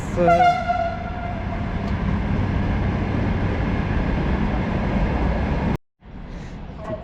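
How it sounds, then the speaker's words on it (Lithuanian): A train rumbles past loudly and steadily, heard from a bicycle on a bikepacking ride toward Vilnius, its horn sounding with sustained tones at the start, then the noise briefly cuts out near the end. "Aišku, dabar traukinys čia važiuoja."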